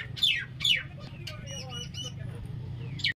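Sharp squawks from a bird, two in quick succession and another at the end, with softer chirps between, over a low background hum.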